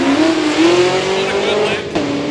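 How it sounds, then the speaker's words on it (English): Chevrolet Camaro and Pontiac G8 drag racing at a street-car event, with one loud engine note rising steadily through the run before a brief dip and recovery, while a commentator talks over it. "Ryan Sullivan coming up in the Camaro left side. The Pontiac G8 over on the right-hand side."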